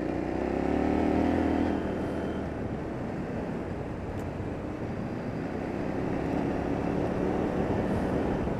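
A CFMoto 450MT motorcycle on a short ride, with a steady engine drone and broadband road and wind rush running throughout, fairly loud and continuous.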